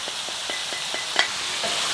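Spices fry in a pot of lamb biryani while a spoon stirs them through. A steady hiss runs under quick, regular scraping strokes, close up, ending with one sharper knock and no talking.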